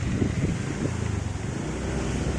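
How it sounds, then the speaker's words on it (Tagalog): Strong wind gusts outdoors along a road, rumbling and buffeting the microphone in a loud, steady roar with no speech. "Bali lumakas yung hangin."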